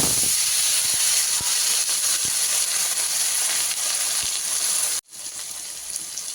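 A small ripe tomato piece goes into hot oil with black cumin and radhuni seeds, bringing a loud, close, continuous hiss that cuts off abruptly, then a fainter sizzle resumes.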